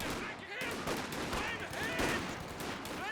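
Rapid MG42 machine-gun bursts and rifle shots crackle continuously through a Company of Heroes 2 battle, dense and loud, with faint game voices mixed underneath.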